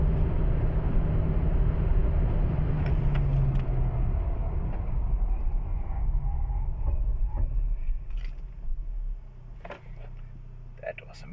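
A 2023 Nissan Xterra with a 2.5-liter, 165-hp engine brakes hard from speed: a loud, steady rumble of road and engine noise inside the cabin fades and thins as the SUV slows toward a stop.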